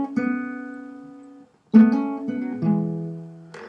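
On guitar, a short riff from a song with plucked notes and hammer-ons, ringing clearly up close, with a brief pause midway and no talk.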